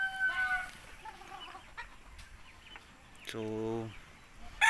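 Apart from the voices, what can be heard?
broodcock rooster crowing and clucking on backyard farm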